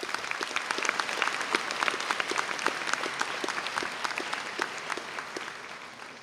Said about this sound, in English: Please give another round of applause for their unconditional support.